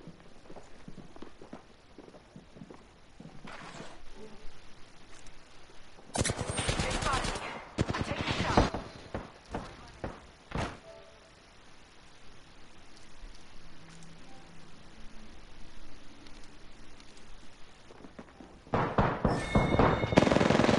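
Bursts of gunfire crackle through a video game battle, with a few isolated shots early, then dense loud volleys midway and again at the end, separated by quieter stretches of movement and ambient noise.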